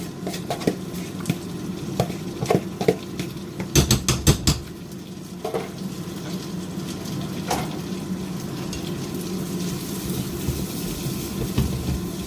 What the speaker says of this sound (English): Now really mix those onions, chili in those beans.